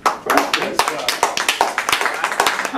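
Clapping bursts from a small audience for panelists at a casual sip-and-speak event, distinct close claps in an uneven rhythm, with a voice talking over part of it.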